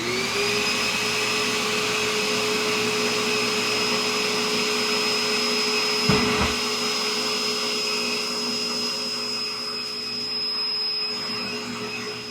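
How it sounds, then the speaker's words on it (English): A heat gun melts down the sandblast finish on a Savinelli Autograph briar pipe, giving a steady, continuous blowing whir heard up close, with one brief bump partway through. "So what we have to do is melt that down with heat gun."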